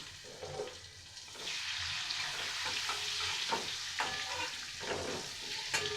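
Chopped tomatoes hit hot oil in a pan with cumin and bay leaves. A bright, steady sizzle swells as they land, and the clatter of a utensil stirring them breaks through several times at close range.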